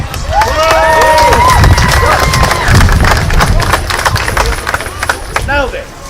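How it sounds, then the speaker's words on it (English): An audience at a pirate-themed auction gives a loud round of applause mixed with cheering, whoops and shouts, a dense crowd sound close by that tapers off near the end. "Give them all a round of applause again."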